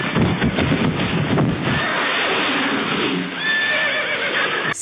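Horse on a road in India neighing loudly with hooves clattering and scraping on the surface, a burst of sharp whinnies up close amid wind noise, without voices.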